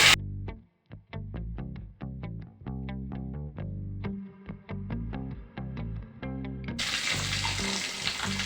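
Curry leaves and green chillies hit hot oil for sabudana khichdi, making a hissing sizzle that grows louder and broader toward the end. Rhythmic background music plays over it.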